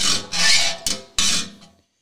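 Hand file rasps across handsaw teeth in three short strokes, close and clear with brief gaps between, ending in quiet.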